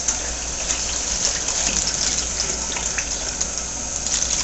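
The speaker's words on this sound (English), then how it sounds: "And then carefully don't lose it while you're rinsing it." Water runs steadily into a sieve of cooked bulgur as it is rinsed, a continuous close gushing splash with scattered droplet spatter and no talk.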